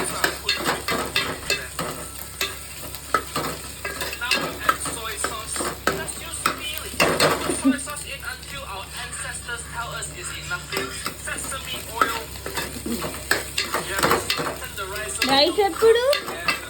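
Egg fried rice sizzles in a pan while a utensil stirs and scrapes against the metal in busy, uneven strokes, with someone speaking Telugu over the frying throughout.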